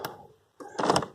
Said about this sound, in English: So if I just undo the door,